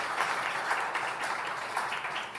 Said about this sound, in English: please give my panelists a big round of applause